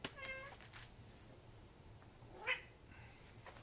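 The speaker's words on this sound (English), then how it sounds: "Hey, kitty." A cat meows a couple of times nearby, short faint mews over a quiet room hum, with no talking.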